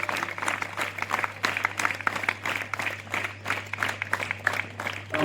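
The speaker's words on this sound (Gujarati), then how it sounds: "જોરદાર તાળીઓના ગણગણાટથી બતાવશું" An audience claps in sustained, dense applause at a marathon award ceremony in Gujarat as a village girl is honoured, with a steady low hum running underneath.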